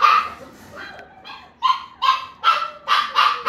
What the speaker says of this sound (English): Barking, wants to come out and play.